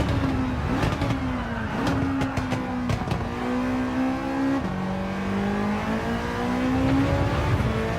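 Toyota race car engine in Gran Turismo 7, lapping a track with more power than an AE86, with a steady droning note that climbs through the gears and drops at each shift, loud and continuous with no talking.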